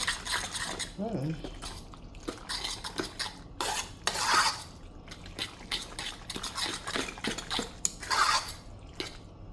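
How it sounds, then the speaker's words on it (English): Whole milk being stirred into a mixture in a pot or bowl, with spoon clinks against the sides and soft liquid swishing, repeated scraping strokes throughout, close and moderately loud. "And you're going to stir that real good."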